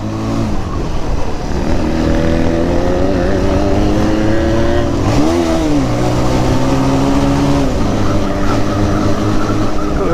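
A Benelli TNT 300 motorcycle fitted with an Akrapovic exhaust revs loudly and steadily up close, its engine note rising and falling through several throttle blips with a sharp swell midway.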